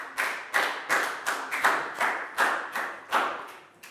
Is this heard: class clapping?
yes